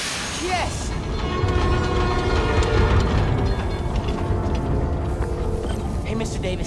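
A New York subway train in the Spider-Man: Miles Morales video game rumbles loudly and steadily with metallic rattling and mechanical clatter, and a voice speaks briefly near the start.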